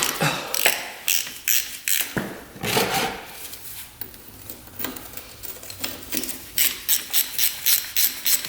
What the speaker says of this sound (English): drain bolt is right here. 17 millimeter. So we'll get that out of there.